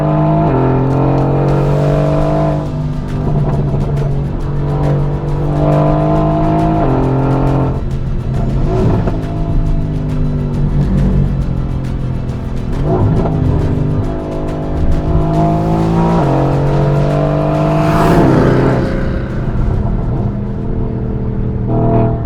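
A Mercedes AMG GT driven hard on a track, its engine revving up and down in repeated rising pulls through gear changes, loud and close throughout, with occasional tire noise.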